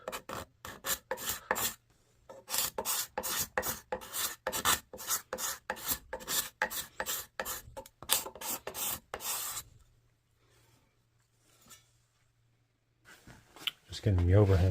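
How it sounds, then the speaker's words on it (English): A rasp files a leather insert on a pre-1900 golf club in quick, rhythmic rough strokes, close and dry, stopping for a quiet pause before a brief voice at the end. "I think I'll hit the rest with the rasp maybe."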